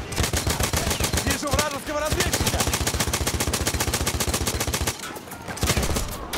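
Sustained rapid machine gun fire from the Perino machine gun in the shooter Battlefield 1, loud and close, with dense rhythmic bursts running through most of the stretch and a brief lull before the firing resumes.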